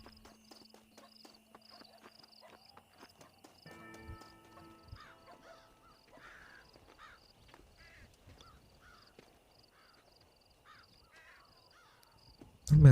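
Open-world Western game ambience in Red Dead Redemption: scattered bird calls and chirps over a faint, quiet background, with sparse soft clicks and a sudden loud burst right at the end.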